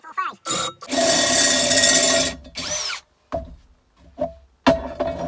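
A step drill cuts a hole in square iron for a crucible in loud, sustained bursts of high whirring grind, one long and several shorter, separated by pauses and brief quieter clanks.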